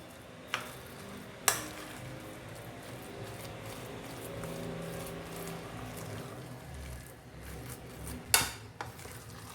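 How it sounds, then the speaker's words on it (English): Dal vada batter of soaked tur dal being mixed by hand in a bowl, a soft steady squelching and stirring with a few sharp clinks of a utensil against the vessel. "Mix everything very nicely."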